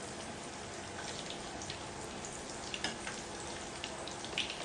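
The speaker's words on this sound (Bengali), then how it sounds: "চিকেন নাগেটস গুলো ভাজি হয়ে যাচ্ছে।" Chicken nuggets frying in oil in a pan, a steady faint crackling sizzle with scattered small pops and spits running continuously throughout.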